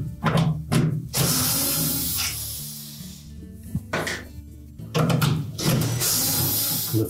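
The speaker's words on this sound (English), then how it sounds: "Next, we'll remove the screws that secure that track to the side of the cabinet." Screws being backed out of the metal track on the side of a Whirlpool refrigerator cabinet, with close, rattling power-driver bursts and ratcheting clicks separated by short pauses.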